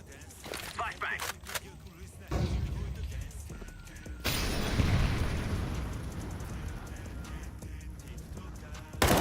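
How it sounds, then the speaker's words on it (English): A flashbang grenade going off in Counter-Strike 2, a sudden sharp burst followed by a long hissing ring, amid clicks, footsteps and other game sounds, with talk in the background. "Flashbang."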